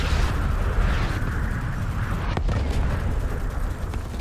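A grenade explodes in the sci-fi shooter game Starship Troopers Extermination: a dense, loud, continuous rumbling roar with one sharp burst cutting through near the middle.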